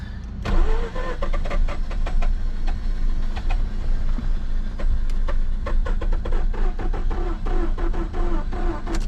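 A car engine cranks slowly on a Topdon jump starter pack with a weak battery, a loud, continuous rhythmic churning that runs throughout without catching.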